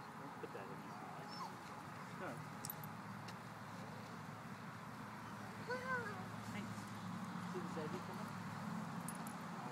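A dog whimpers and yips in soft, high, wavering bursts, faint and partly buried under people talking nearby.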